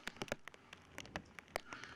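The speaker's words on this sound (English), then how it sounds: "and there's the rain." Rain falling at an outdoor disc golf tournament round: scattered faint drops tapping a nearby surface in an irregular patter over a soft background hiss, with no voices.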